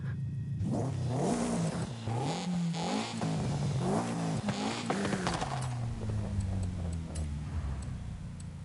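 An engine swapped into a car it does not match revs in Forza Horizon 5, rising and falling through repeated pitch sweeps and gear changes, loud and close with a clicking rattle under it.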